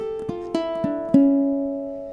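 A short plucked ukulele phrase of quick triplet notes, close and clear, ending on a ringing held note that slowly fades.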